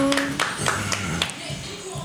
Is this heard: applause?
yes